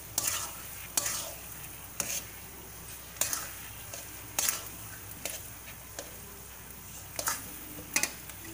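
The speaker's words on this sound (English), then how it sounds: "And mix it thoroughly," Mawa being stirred into moong dal halwa in a pan, a spoon scraping in regular strokes about once a second with a faint sizzle underneath, close and fairly quiet.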